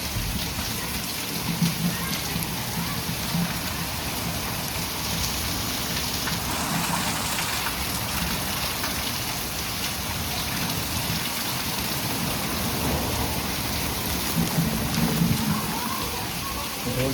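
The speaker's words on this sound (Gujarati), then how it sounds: "જોરદાર પવનની સાથે વરસાદ આવી રહ્યો છે." A heavy summer downpour in Ganeshvas, Vadnagar, hisses steadily on surfaces with gusty wind, forming a thick, continuous wash of rain that stays loud throughout.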